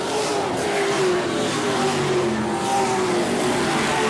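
Modified race cars roaring around a dirt oval track during a race at Lakeport, California, a continuous loud engine drone with passing cars rising and fading, no talk.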